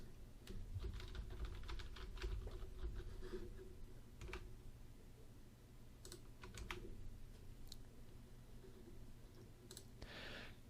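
Keys clatter in irregular bursts as a username and password are typed on a computer keyboard, close by over a steady low hum, with no talking.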